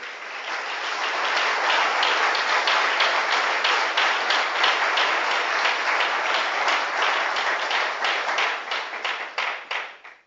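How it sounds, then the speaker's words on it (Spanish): A Pentecostal evangelical church congregation applauds loudly and steadily for about ten seconds. The clapping turns into a few sharper, more separate claps as it thins out toward the end. "Hermanos, yo quiero aplaudir al Padre,"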